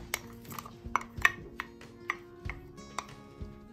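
Vegetable lumpia filling of potato and other vegetables being mixed in a mixing bowl, close, quiet clinks and scrapes of a utensil against the bowl in an uneven rhythm with soft knocks between.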